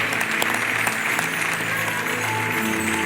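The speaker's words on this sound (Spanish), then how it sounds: "Dale un aplauso fuerte al Señor." A church congregation claps loudly and steadily, dense applause filling the whole moment.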